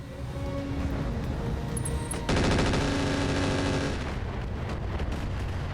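A wall of missiles launched in BattleTech, a dense rapid barrage of rattling, crackling launches and impacts that surges loudly midway and rolls on as a continuous volley.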